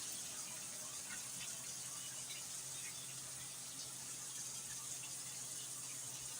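Hot water runs steadily from a tap to soak a cloth, a faint, even hiss that never changes.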